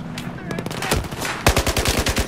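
Battlefield 4 gunfire comes first as scattered shots, then as a loud rapid automatic burst of evenly spaced rounds, with faint game sounds underneath.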